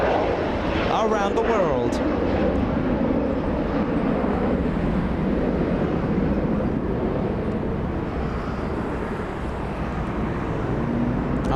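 A quad-engine Korean Air jet airliner flying at Los Angeles airport, heard as a steady, loud broadband engine roar that fills the clip, with a person talking over it.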